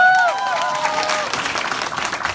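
An audience bursts into applause, a dense wash of clapping that carries on steadily, with a voice trailing off at the very start.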